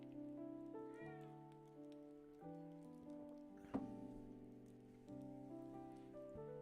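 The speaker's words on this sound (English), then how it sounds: "Everybody hear my cat yelling at me?" A pet cat meows insistently near a microphone over a droning background of video-game farm music, several drawn-out calls with one sharper yowl partway through.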